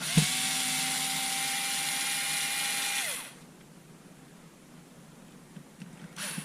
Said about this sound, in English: let's get the rest of these screws out